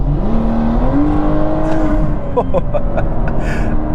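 BMW F30 340i engine in Sports Plus mode revving hard under full throttle, a rising drone that climbs steadily before quick shift blips and pops break in near the end, loud and close inside the car.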